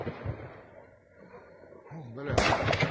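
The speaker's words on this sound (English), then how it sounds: "We hear the firefight continuing out there." Distant gunfire and muffled booms from a firefight in the Ukraine war roll faintly across the opening seconds over a low outdoor rumble, before a voice and nearby movement take over toward the end.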